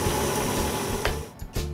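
Unsweetened cocoa being stirred into chocolate brandy cookie batter with sugar and vegetable shortening, making a close, steady mechanical whirr of mixing that stops briefly and starts again near the end.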